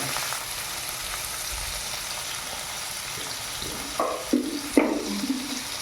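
Tomatoes with a pinch of salt fry in a pan, a steady soft sizzle running throughout, with a few louder stirring scrapes and clatters near the end.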